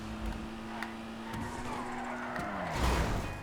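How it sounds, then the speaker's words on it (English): A car in GTA Online with its tires screeching as it turns, over a steady engine drone, with a louder burst of squeal near the end. "you can hear just turning makes the wheels screech"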